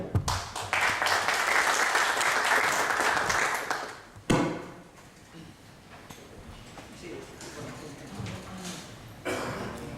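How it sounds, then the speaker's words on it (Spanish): A conference audience gives a speaker a loud round of applause that fills the first four seconds and then fades out abruptly, followed by quieter room noise and someone talking. "Así que un fuerte aplauso y vamos ya con la última charla del día."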